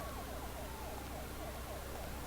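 An ambulance siren in the video game Parasite Eve 2 wails in a steady, rapid warble. It plays faintly against a dense, noisy city background with no voices.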